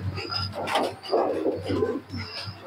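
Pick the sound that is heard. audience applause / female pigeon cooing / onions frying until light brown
female pigeon cooing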